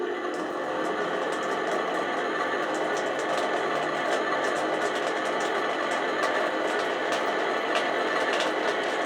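A Miele Novotronic toy washing machine pumps out water with a steady, continuous motor whir and buzz, loud and close, running unbroken without any talk.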